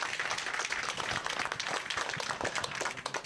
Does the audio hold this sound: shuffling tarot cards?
no